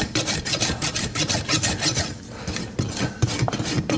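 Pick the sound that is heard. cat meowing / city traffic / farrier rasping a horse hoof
farrier rasping a horse hoof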